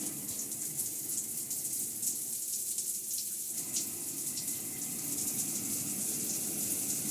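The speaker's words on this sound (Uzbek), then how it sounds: "nasos davleniya qo'ygandan keyin yomg'irli bo'lib suvlar tushaveradi" Water streaming from a newly installed pump-pressurised shower in a home bathroom, a steady close hiss of spray falling continuously throughout.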